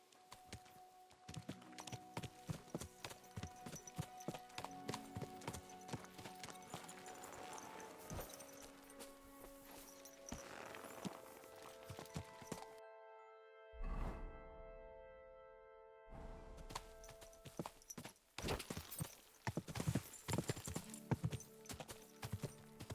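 Horse hooves clip-clopping in Kingdom Come: Deliverance II, a quiet, uneven run of hoof thuds and clatter that briefly drops out before resuming, with occasional other game sounds around it.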